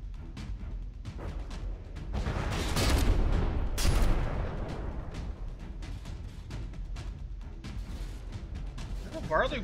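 Naval gunfire from warships trading shots in a From the Depths tournament battle, a dense run of overlapping booms and rapid shots swelling to a loud peak midway, with speech over it.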